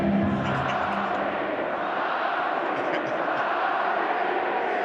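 A rugby stadium crowd at a Bulls v Benetton quarter-final swells into a loud, steady roar, with a commentator's voice heard over it.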